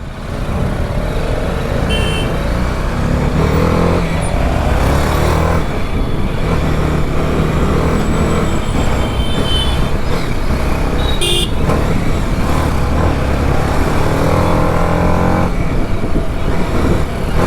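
A motorcycle rides through busy road traffic on the Janipur road in Jammu, squeezing through narrow gaps. A steady, loud engine and traffic roar runs throughout, with occasional horn toots and passing vehicles, and no talk.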